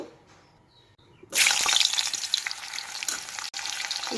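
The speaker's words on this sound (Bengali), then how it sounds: "কুমড়ো দিয়েছি কুমড়োটা ভাজা হয়ে গেলে তুলে নেব" Pumpkin pieces dropped into three spoons of hot mustard oil: a quiet pause, then a sudden loud burst of sizzling and crackling that keeps bubbling steadily, close to the pan.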